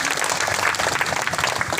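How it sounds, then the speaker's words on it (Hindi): An audience at a Hindi political speech claps in dense, continuous applause, a steady crowd roar of many hands with no single claps standing out. "ताली को बजाइए"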